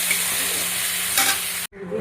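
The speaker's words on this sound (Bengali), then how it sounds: "কাঁকড়ের আলুকে ভেজে নিচ্ছি।" Potatoes frying in hot oil in a pan while cooking katla fish, a dense continuous sizzle with stirring that cuts out abruptly near the end, then resumes more quietly.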